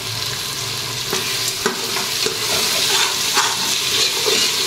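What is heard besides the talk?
vegetable rice with tomatoes frying and being stirred in a cooker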